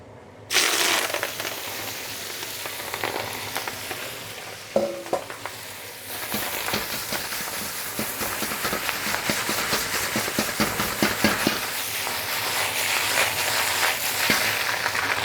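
Vegetables, tips, hit a very hot wok at about 700 degrees for a vegetarian Chinese stir fry, with a loud burst of sizzling right away that settles into steady, crackling frying with scraping and tossing throughout.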